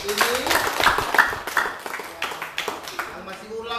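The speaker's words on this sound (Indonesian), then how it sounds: "Sekali lagi tepuk tangan buat kelompok ini." A group claps by hand in an irregular patter of close, sharp claps, while a voice talks over the applause.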